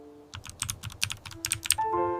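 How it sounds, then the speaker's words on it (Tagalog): A short run of computer keyboard typing, crisp keys tapped in an irregular burst up close, followed by a short tonal sound at the end. "This is a keyboard."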